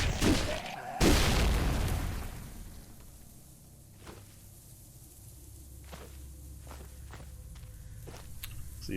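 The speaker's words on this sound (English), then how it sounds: "See if the explosion draws anybody else." A loud explosion in the zombie survival game Cataclysm DDA bursts early and rolls off, followed by quieter scattered thuds and footsteps in a hushed game world.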